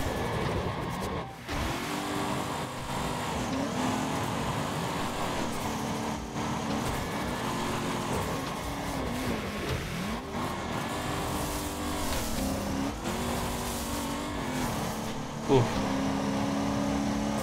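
Race cars driving in the game DRAG, engines revving and shifting in wavering, rising and falling tones with several cars close together, a steady loud drone, with a brief sharp knock near the end.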